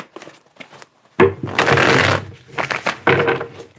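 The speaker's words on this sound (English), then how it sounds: "Get 2 more shuffles here." A deck of tarot cards being shuffled by hand in bursts of riffling and rustling, with a long loud shuffle in the middle and shorter ones before and after, close up with no talking.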